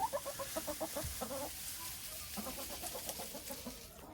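Hens on a farm in winter cluck repeatedly in short bursts, close by and fairly loud, with a brief gap before the clucking resumes.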